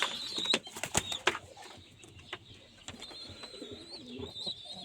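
Pigeons cooing close by, soft throaty calls mixed with a few sharp chirps and bursts of wing flapping early on.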